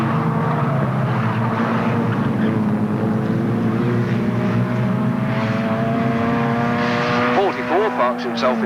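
Several race cars roar past the pit turn at Alwalton Raceway in 1983, their loud droning engines overlapping and rising in pitch near the end, while a commentator talks over the noise.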